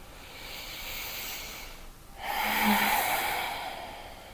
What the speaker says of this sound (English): taking a deep breath here